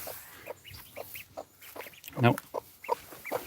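Chickens cluck in a forest garden, a run of short, irregular clucks with one louder squawk midway, close by, while a person briefly speaks.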